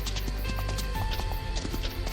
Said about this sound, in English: And the horses are going faster and faster.